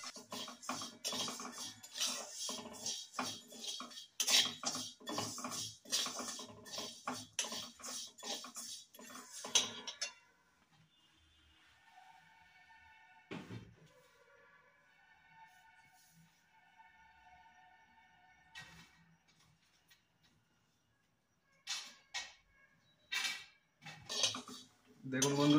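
Spices for a Mohuya fish-bait mix for rohu and catla are briefly dry-fried together in a pan, stirred with rapid metallic scraping and clinking for the first ten seconds, then quiet, then short clattering bursts near the end.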